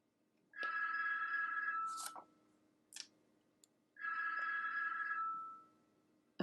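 A landline telephone rings indoors in two long electronic bursts separated by a pause, with faint clicks in between, fairly close and otherwise quiet.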